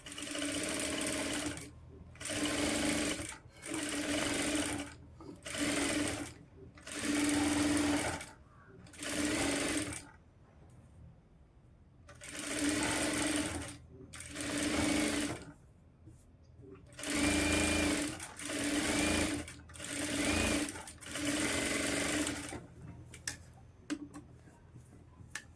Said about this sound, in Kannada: ಸೊ ಆ ಮಾರ್ಕ್ ಮೇಲೆ ಈಗ ನಾನು ಸ್ಟಿಚ್ ಮಾಡ್ತೀನಿ.